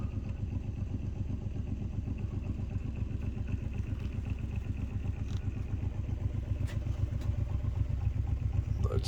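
Magnet ramp pulse motor running while powering a 5 watt LED, giving a steady rapid mechanical pulsing clatter, close and continuous throughout with no talk.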